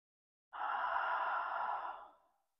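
A single long exhale during a gentle beginner yoga session for breast cancer, a soft, close, breathy sigh lasting about a second and a half before fading into silence.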